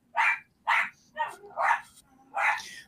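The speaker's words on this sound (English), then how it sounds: "Sorry about your dog." A dog barks five times in a loose, uneven rhythm, close and fairly loud, each bark short and sharp with brief quiet gaps between them.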